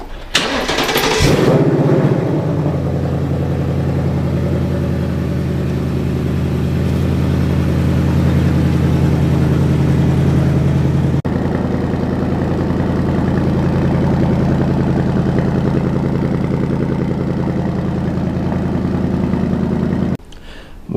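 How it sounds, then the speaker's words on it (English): A 2024 Ford Mustang GT with its 5.0 V8 fires up loudly from cold, a sharp start burst followed by a steady, rumbling idle that holds close and strong for about twenty seconds. "Let's do a little cold start"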